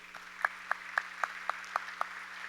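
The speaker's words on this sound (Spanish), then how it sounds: "Tribútenmele un fuerte aplauso a Don Pepín." Sparse, evenly spaced claps ring out at a national literature prize ceremony, about seven distinct hand claps in a slow rhythm over a steady low hum, fairly quiet and without voices.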